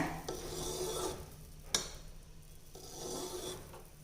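A ladle stirs boiling sugar syrup for boondi laddu, making a scraping, rasping sweep around the pan in two long passes with a sharp metal clink between them, close and fairly quiet under a steady background hum.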